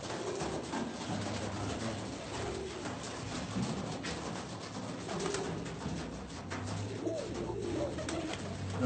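Pigeons cooing in a hobbyist's bird loft, soft low rolling coos repeating steadily through the whole stretch amid a busy background of rustling and other bird sounds.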